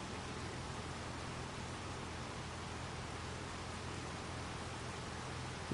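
Steady rain in the farming game Farming Simulator 25, a dense, even hiss of downpour continuing unbroken throughout with no voices.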